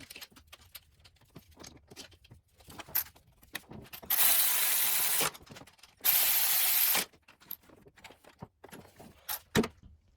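Bolts are fitted back into a bracket while relocating the coolant expansion tank on a BMW N54 engine: sparse metallic clicks and clinks, quiet and close, broken by two loud, sustained hissing bursts of about a second each.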